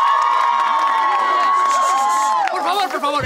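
Studio audience cheering and clapping in a sitcom scene, a dense crowd roar with a high held shout over it, then thinning into scattered voices and shouting near the end.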